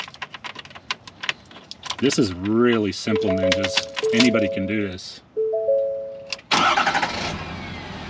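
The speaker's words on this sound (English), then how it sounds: "So let's start the engine." A truck engine is started with the key after a remote start install. Someone talks first over a few short electronic tones, then the engine cranks and catches with a sudden loud roar that settles into an idle.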